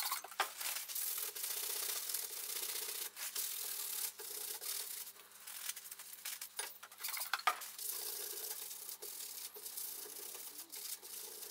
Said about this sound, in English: We're now just going to give it a clean with some methylated spirits.